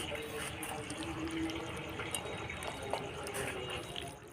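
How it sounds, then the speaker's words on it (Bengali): Soft cooked chicken pours from a pot into a tiffin box, a continuous wet sloshing and trickling pour with a few light clinks, close but quiet, and faint voices are heard in the background. "মাংসটা এই টিফিনের মধ্যে ঢেলে দেবো"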